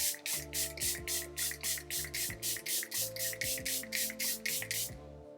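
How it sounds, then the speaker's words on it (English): Rapid repeated spritzes of a fine setting spray misted onto a face, about a dozen quick pumps in a steady rhythm, close up, with soft background music underneath. "I think we should spray my face now."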